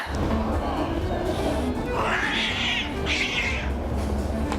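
A cat meows twice on a film set, two short rising-falling calls standing out from a busy background of talk and general noise.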